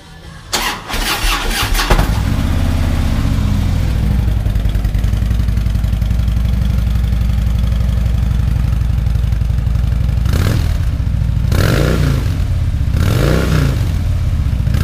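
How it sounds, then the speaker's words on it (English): A 2010 Harley-Davidson FLHP with stock exhaust cranks and fires up, then settles into a loud, lumpy idle with a couple of throttle blips near the end. "That's with the stock exhaust."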